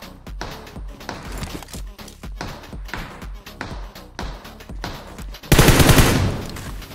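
Gunfire in the PUBG Mobile (BGMI) video game comes as rapid bursts of sharp shots in an uneven rhythm, ending in a louder, denser barrage near the close.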